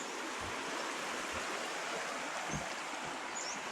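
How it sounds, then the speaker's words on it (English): A small forest creek flows steadily with a soft, even rushing and burbling of water, faint and continuous, with no voices. "we're coming up on a little creek here"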